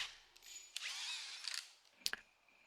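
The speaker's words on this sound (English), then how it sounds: "the hole is drilled for that spike" Power drill boring a hole into a railroad tie for a track spike during track installation; a short whining drill burst with a few knocks, then a second brief burst, fairly faint and with no talk.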